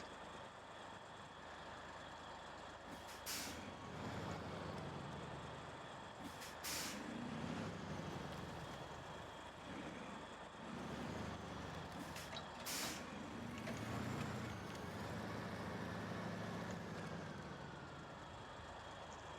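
A truck with a trailer reverses in the SnowRunner video game, its steady engine drone running throughout with several sharp hissing air-brake bursts, no talking.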